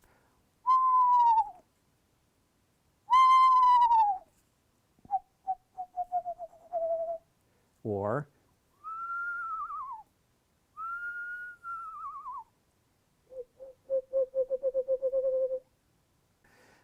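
A series of whistled screech owl calls: descending wavering whinnies and steady soft trills, separated by short pauses, clear and isolated against silence; likely a human imitation.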